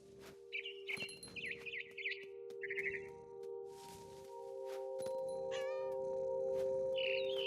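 A cat meows several times in a row in What Remains of Edith Finch, alongside brief bird chirps, game tones and a steady hum from the game's soundtrack.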